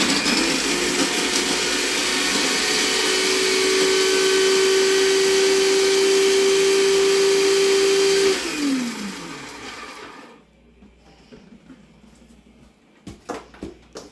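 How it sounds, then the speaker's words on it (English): A food processor chops garlic into a burger sauce, its loud steady whir holding for about eight seconds with a rising motor tone, then winding down and stopping, leaving quiet room noise and a few small clatters. "we're going to put this in the food processor"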